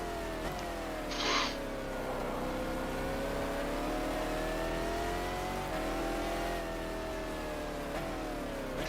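A Panoz race car in the racing game GTR2 holds a steady, droning engine note that rises and falls slightly as it runs, with a brief higher squeal early on and no voices.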